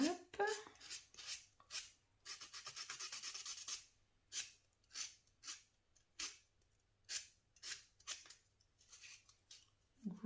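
Press-on nails filed with the coarser side of a nail file, producing a series of short, close scraping strokes in a steady rhythm, with one longer continuous rasping stretch early on.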